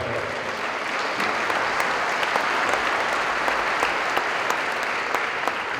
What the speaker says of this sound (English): You can really clap about that.